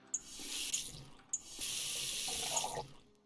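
In the Cooking Simulator video game, a sink tap fills a big pot with about a litre of water in two bursts of steady hissing flow, each starting with a click, with no speech.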